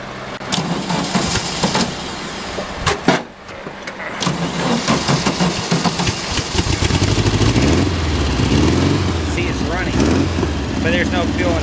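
A dune buggy engine with a fuel feed problem starts and runs close by, a throaty idle rising and wavering in revs, while someone talks over it.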